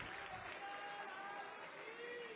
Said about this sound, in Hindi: आप सभी जोरदार तालियां बजाएं।